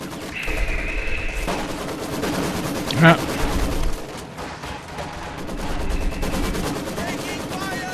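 Machine gun fire rattles through a Company of Heroes 2 battle, with a sharp burst standing out near the middle over a dense, steady wash of gunfire, rumble and game noise, while a voice talks throughout.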